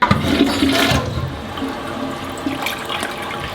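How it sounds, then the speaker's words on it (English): An elongated hotel-bathroom toilet flushes with a sudden loud whoosh up close, then the rush tapers into a softer, steady swirl and trickle as the bowl refills. "it's just kind of a standard toilet flush"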